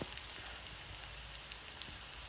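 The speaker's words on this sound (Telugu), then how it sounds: "ఆనియన్ కలర్ చేంజ్ అయ్యే వరకు ఫ్రై చేసుకున్నాక" Chopped spring onions fry in a pan, crackling and sizzling steadily at close range with small popping spikes scattered through a dense, hissing texture, and nobody speaks.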